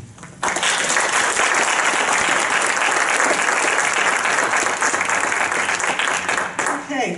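An audience at a meet-the-candidates night for a New York State Assembly special election bursts into loud, sustained applause that holds steady for several seconds before tapering off.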